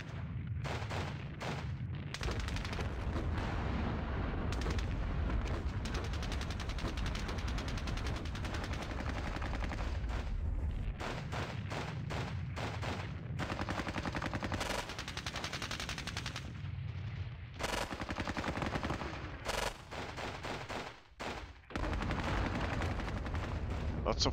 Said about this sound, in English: Pretty pinned here from all these artillery strikes.